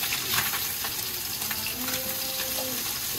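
Puti fish fry in hot oil in a wok, a continuous close sizzle with bubbling crackle, occasional stirring clinks and a faint tonal whine underneath.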